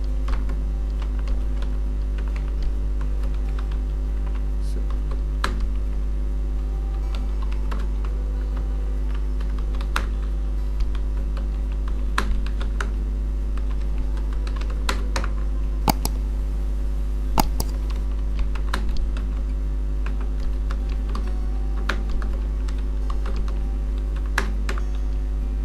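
Typing on a computer keyboard while writing text into an Excel page, a steady run of light, quick key clicks over a constant low electrical hum, with no voices.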